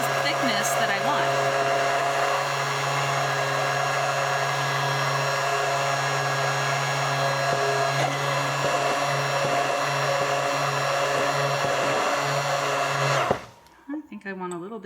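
A small electric mixer whirs steadily as xanthan gum is blended into a matcha gel masque, a loud continuous motor hum lasting over thirteen seconds before abruptly stopping, with a few soft clatters after.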